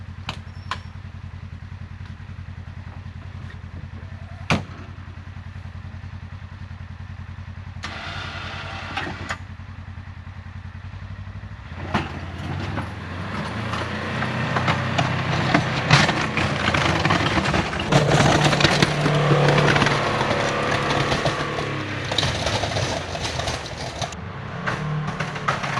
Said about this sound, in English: we're just gonna do a little plowing here in the wood yard